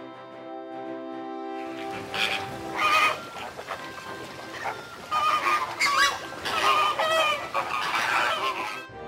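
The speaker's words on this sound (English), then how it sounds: "Hen." A hen clucks in a run of short, close, clear calls, coming in uneven bursts over a steady background drone and growing busier toward the end.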